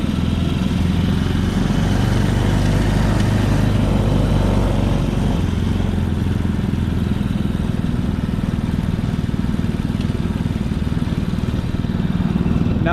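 The small engine of a mini jeep runs continuously at close range, a rough, steady rumble and clatter whose pitch shifts about midway as gears are changed, with no speech heard.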